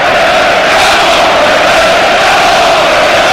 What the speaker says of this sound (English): Still a crowd doing their bit to get behind the Bees.